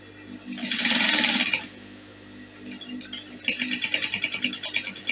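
A sewing machine runs a top stitch along a pencil skirt, with a steady whirring burst early on and a quicker run of rhythmic stitching pulses near the end, fairly close and moderately loud.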